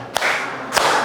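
A group claps together in a short clapping-count game, two sharp unison claps about half a second apart over a steady murmur of room noise.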